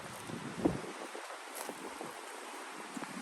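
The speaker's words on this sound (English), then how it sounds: "It is so windy" Strong wind gusting across a gorge trail at Ravens Rock in Kentucky, a steady broadband rush with a low buffeting thump early on, no talking.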